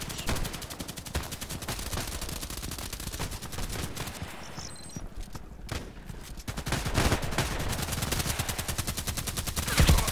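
Rapid video-game pistol fire from long-range contract shots, dense bursts of sharp cracks repeating almost continuously at a steady loud level, with a brief lull midway before the shooting picks up again.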